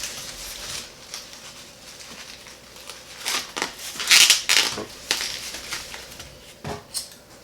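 Paper strips are folded and turned into a St. Brigid's cross, giving close, irregular crinkles and crisp crumpling rustles, with a few sharper louder creases in the middle.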